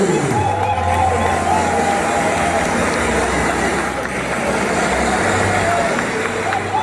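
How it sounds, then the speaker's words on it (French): A crowd of wedding guests cheers for the newlyweds, a sustained, dense roar of voices and shouts that stays loud and even, with a low rumble underneath. "Faites du bruit pour les mariés"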